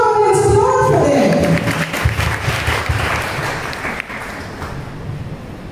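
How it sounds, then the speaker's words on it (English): Audience applause for a quiz team at a science quiz event, a dense, steady clapping that starts loud and tapers slightly over several seconds, with faint voices mixed in. "Come on, let's applaud for them."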